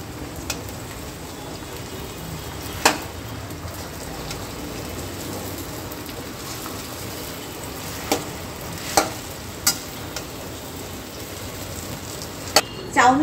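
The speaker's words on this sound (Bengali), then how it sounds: "চাউমিনটা দেখো ভালো করে নাড়িয়ে নিয়েছি সবজির সঙ্গে" Boiled chowmein noodles stir-fried with vegetables, a steady soft sizzle of frying with a few sharp clinks from stirring scattered throughout, while faint speech sits low in the background.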